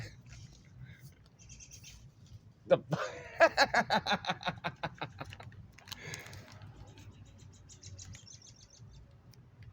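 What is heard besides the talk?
birds calling in trees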